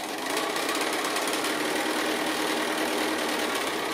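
A sewing machine runs steadily, stitching quilt heart block pieces cut from 2 1/2 inch strips along a diagonal line, its motor whirring continuously and close by with a fine rapid needle rhythm.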